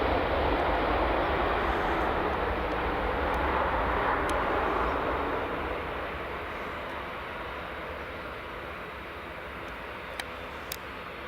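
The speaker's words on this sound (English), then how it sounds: "Star Air taxiing along" A Star Air aircraft taxis toward the runway at Edinburgh Airport, a broad, steady engine roar that slowly fades as it moves away, with a few faint high ticks near the end.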